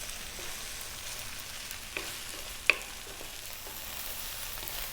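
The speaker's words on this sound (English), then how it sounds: "We actually want to fry the rice, so keep it on a high heat." Cold cooked basmati rice frying with shrimp in a pan over high heat, a steady soft sizzle and crackle throughout, with a single sharp pop near the middle.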